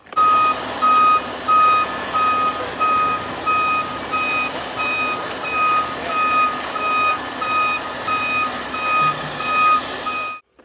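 Loud, regular reversing beeps from an excavator, about one per second, over a steady engine rumble, stopping abruptly at the end.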